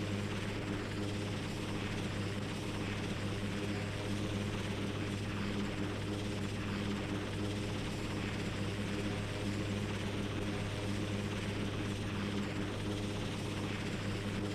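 A helicopter's rotor and engine run steadily and loudly nearby on a helideck, a continuous whirring drone with a rhythmic blade chop.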